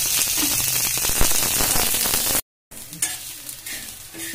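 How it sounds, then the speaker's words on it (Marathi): Onions fry and crackle in a pan for handi mutton masala, giving a loud, steady sizzle with stirring scrapes. The sound cuts out briefly partway through, then resumes with a softer sizzle. "आता आपण आपले कांदे भाजून घेत आहे"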